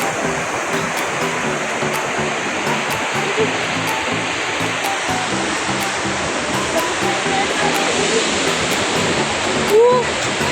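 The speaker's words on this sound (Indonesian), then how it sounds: "kita lagi berada di Pantai Ulele" Waves at Ulele Beach in Aceh make a continuous loud roar of surf, steady and close, with faint voices underneath.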